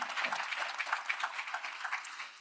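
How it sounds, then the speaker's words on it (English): Applause at an annual scientific meeting, with a room of hands clapping in a dense, even patter for a couple of seconds before trailing off slightly, heard from a moderate distance. "a big round of applause and thanks to Jessica Kellerman, who really made all of"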